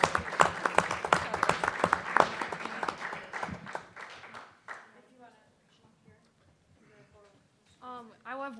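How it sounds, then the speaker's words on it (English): Attendees at a county board meeting give a brisk round of clapping that tapers off after about four seconds, followed by quiet room sound and a few spoken words. "we'll give you another round of applause"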